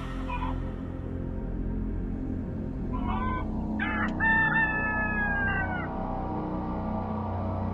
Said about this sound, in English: Creepy chickens.